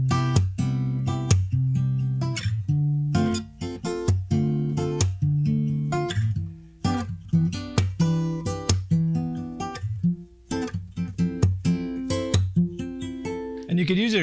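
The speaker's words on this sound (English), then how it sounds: "if I just play some major seventh and minor seventh chords starting on the fifth string" Acoustic guitar strings ring out in clump chording, switching between major seventh and minor seventh chords in a steady, percussive rhythm of short strummed bursts, fairly close and clear.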